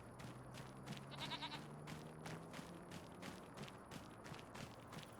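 Sheep and goats bleat in their pens on a farm on a calm evening, a few bleats sounding over a steady background hum, with occasional soft footsteps.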